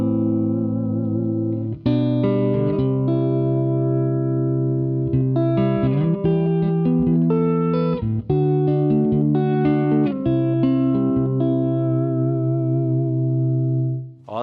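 Electric guitar played through a Benson Chimera amplifier head into a 2x12 cabinet with the bass knob boosted, giving a smooth, full tone; sustained chords and melodic lines ring out loud and continuous for the whole stretch, alone without talk.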